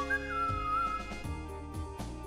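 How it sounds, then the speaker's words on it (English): Mario gives a short whistle in a video game, a bright tone rising and then falling over continuous upbeat game music, lasting about a second before the music carries on alone. "Mario just whistled."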